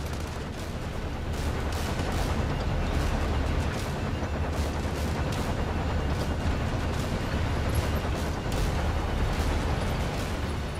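Cannon blasts and gunfire in Sand Land pound continuously for about ten seconds, a dense, loud barrage of rapid shots and booms with no talk.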